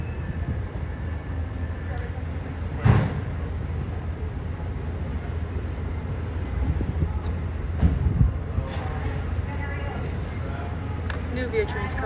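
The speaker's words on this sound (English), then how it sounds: "New Via train's coming." A new Via Rail passenger train rolls past in Toronto, a steady low rumble with a few louder clanks around the middle, while people talk nearby.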